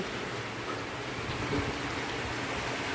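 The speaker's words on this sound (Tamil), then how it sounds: "பாருங்கள் எங்கள் ஊரில் எப்படி மழை" Heavy rain falling in a village, a steady dense hiss that fills the whole stretch evenly, close and unbroken, with no voices.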